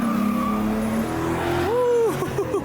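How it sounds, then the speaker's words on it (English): A car drifts at a car meet where loud C8 Corvettes gather: a close, loud engine roar rises as the tires squeal in a wavering screech lasting about a second. "some Tokyo drift shit's happening"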